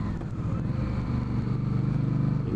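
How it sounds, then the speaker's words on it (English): Indian Scout Bobber motorcycle engine braking, a continuous low throbbing engine drone heard close and fairly loud with pulsing rumble throughout. "Engine braking on the motorcycle is also very good as well."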